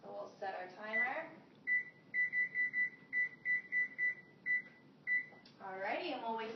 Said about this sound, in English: So we'll set our timer.